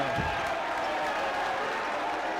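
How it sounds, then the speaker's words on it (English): Loud, steady roar of a crowd cheering at a men's college basketball game, Springfield College against Western New England in a season opener, a dense wall of noise filling the arena throughout. "this crowd is getting really into it right now"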